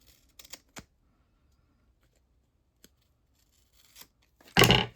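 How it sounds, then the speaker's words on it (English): Tim Holtz scissors cutting fabric strips: a few sharp snips close to the mic, then a pause, and a louder crunchy cutting burst at the end. "these are my good Tim Holtz scissors"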